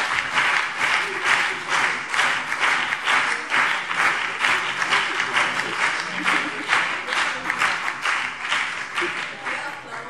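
Sustained, dense applause fills a German state parliament plenary chamber, steady and loud throughout with no pauses.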